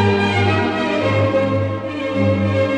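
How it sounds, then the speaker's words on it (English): An orchestra of 163 players performs Mozart, a steady, sustained classical passage, strings and winds blending in a full, even texture without any voices. "This is the sound of 326 hands playing Mozart."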